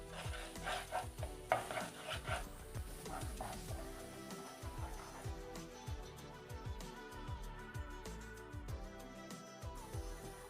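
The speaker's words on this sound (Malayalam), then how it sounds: "നമുക്കതൊന്ന് നല്ലപോലെ ചിക്കി പൊരിച്ചെടുക്കാം" Egg scrambled and fried in a pan with spices, a soft sizzle under repeated scraping and stirring strokes with a spatula, quiet and close, with music playing underneath.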